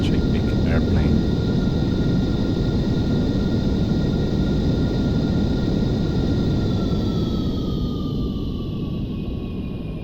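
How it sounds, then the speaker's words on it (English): Boeing 747 thrust reversers roaring after touchdown in Aerofly FS 4, a loud, sustained broadband rush of engine noise with high whining tones that slowly fade as the jet slows. "Alright, touchdown, reverses."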